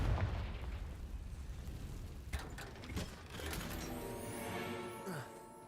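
Bombarda and Confringo spells burst in Hogwarts Legacy with several sharp crackling impacts and rumbling blasts, followed by a rising, ringing magical tone, mid-distance and moderately loud.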